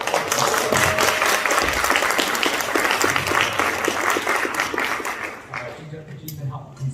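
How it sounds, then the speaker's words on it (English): A school winter concert audience applauding in a hall: steady, dense clapping from many hands that holds for several seconds and then tapers off, with voices faintly mixed in. "Can you give a round of applause?"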